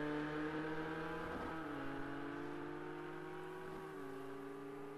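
Race car engines of a Ford GT40 and a Ferrari in Project Cars 2 drone steadily at high revs, with harmonic tones sliding down as gears shift, loud and continuous throughout.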